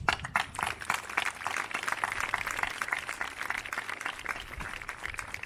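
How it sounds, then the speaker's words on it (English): Applause from a graduation crowd at Fall Creek High School, honoring graduating students: dense, steady clapping from many hands sustained throughout, moderately distant. "I'm going to give you guys a round of applause"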